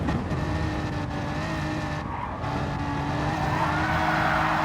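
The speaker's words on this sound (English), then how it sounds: "has a massive moment of oversteer mid-corner, has to lift out and loses all momentum on the exit" A race car in a racing video game oversteers mid-corner at Blue Moon Bay, its engine droning loudly and continuously while the tyres squeal through the slide.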